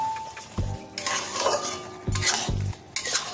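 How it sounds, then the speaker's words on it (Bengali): Carrot halwa with sugar being stirred in a pan, repeated scraping and clattering of a spoon against the pan in bursts, with a soft sizzle underneath. "এইবারে সবগুলো ভালো করে নেড়ে চেড়ে মিশিয়ে নিচ্ছি"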